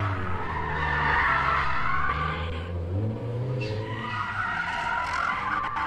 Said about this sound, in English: Turbo and supercharged Mark II.